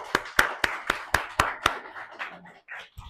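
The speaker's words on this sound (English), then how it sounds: "So we can just give Jordan a quick round of applause." A live audience at a landlord event gives a guest speaker a quick round of applause, with about seven sharp, distinct claps at first that thin out into scattered, softer clapping before fading.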